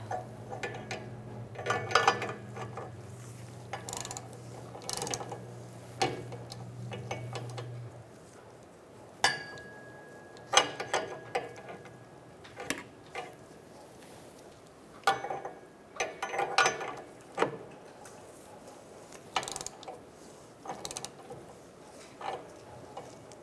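A ratchet tightens a downstream O2 sensor on a 2004-2009 Mazda 3 2.3L. It makes quick runs of clicking in repeated short bursts separated by pauses, close by and fairly quiet.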